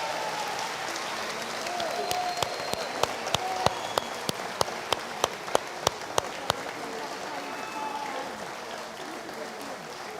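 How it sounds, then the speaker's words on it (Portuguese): A church congregation at a Sunday worship service claps together, sounding as a soft, steady wash of applause that swells into rhythmic, unison clapping in the middle and then eases back into loose clapping. "Dá uma salva de palmas ao Senhor Jesus."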